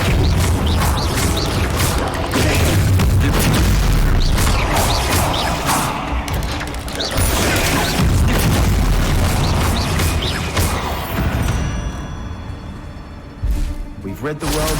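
Confringo fire spell in Hogwarts Legacy blasting against a spider, a loud continuous barrage of booming explosions and crashes that fills the whole stretch, with game dialogue mixed in.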